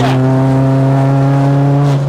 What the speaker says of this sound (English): See the way it revs out.